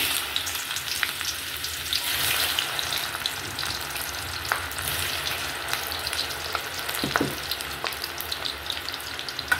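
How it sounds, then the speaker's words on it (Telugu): Okra pieces frying in hot oil make a steady, dense sizzle with bright crackles and pops that runs the whole time, close up and fairly loud, with no voices. "ఆయిల్ హీట్ అయింది. ఇప్పుడు బెండకాయ ముక్కలు వేసుకున్నాం."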